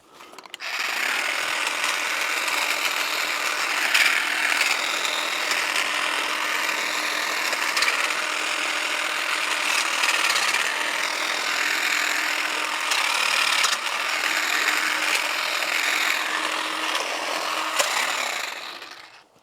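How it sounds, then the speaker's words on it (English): WORKPROX 20V cordless pole hedge trimmer cutting through branches outdoors, its blades chattering in a steady buzzing, rasping drone that runs nearly unbroken and fairly loud from start to finish, with no talking. "that'll be my quick demonstration for the WORKPROX tree hedge trimmer. It works really well. It cuts a lot of this branch stuff."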